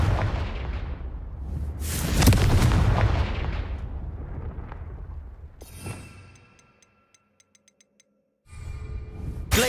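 A Confringo fire spell explodes in Hogwarts Legacy, loud booming blasts that roll and fade over several seconds, then a short quiet stretch with faint clicks and another burst at the end.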